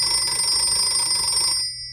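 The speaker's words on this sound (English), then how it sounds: "Now they are both ringing in unison." Two vintage Czech Tesla T-52 hand-crank telephones ringing together, a loud, steady metallic bell trill sustained close by before cutting off abruptly.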